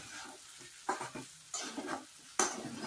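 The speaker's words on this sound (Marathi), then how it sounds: "आता आपण थोडंसं हलवून घेऊया खिचडी." Sabudana khichdi is stirred in a pan, giving a few soft scraping and clinking strokes of a spoon over a faint, quiet sizzle.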